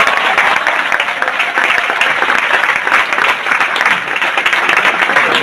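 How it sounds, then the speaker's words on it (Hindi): A large training-seminar audience claps together, loud and dense, a continuous wash of hands that holds steady throughout with no speech over it. "एक बार जोरदार तालियां यार"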